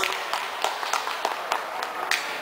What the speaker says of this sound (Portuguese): Outra salva de palmas